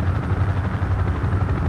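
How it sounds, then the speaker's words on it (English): A helicopter in the military video game Project Reality, its rotor beating in a steady low chop at constant loudness, heard alone and close throughout. "Oh, yeah. Helicopter."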